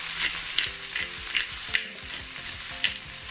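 Salt and pepper chicken with black pepper sizzling loudly in a pan, with repeated scraping stirs and utensil clinks at an uneven rhythm, close up and without speech.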